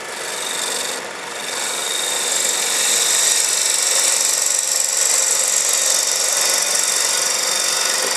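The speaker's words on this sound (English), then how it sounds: "3/8 ball gouge, I don't think there's anything finer for cutting like this" A 3/8 ball gouge shears wood on a spinning lathe, giving a steady, close, hissing rasp that dips briefly near the start and then holds at an even level.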